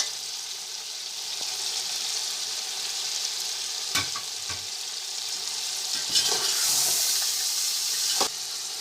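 Tomatoes frying and being stirred in a pot of beef biryani with bay leaf and green chillies, a steady close sizzle broken by a few sharp scrapes and clatters of the spoon against the pot.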